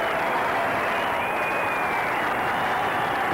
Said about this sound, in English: To a tremendous round of applause.